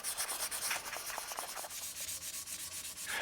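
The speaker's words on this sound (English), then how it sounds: "Obviously, dry sanding generates a lot of dust, so you've got to make sure to clean it off with a soft paper towel every so often." Dry sanding of a guitar's clear coat by hand, a steady close scratchy rubbing with rhythmic back-and-forth strokes throughout, no talk.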